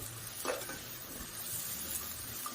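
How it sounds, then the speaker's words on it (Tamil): Onions sautéing in a pan for mutton biryani give a soft, steady sizzle that stays faint and continuous, with a few light stirring scrapes. "பிரியாணிக்குன்னு பார்த்தீங்கன்னா ரொம்ப இம்பார்ட்டன்ட் இந்த வெங்காயம் வதக்குறது தாங்க"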